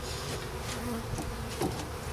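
Honey bees buzz around an open hive during an early-March inspection: a dense, steady drone of many insects close by, even in loudness throughout, with no voices.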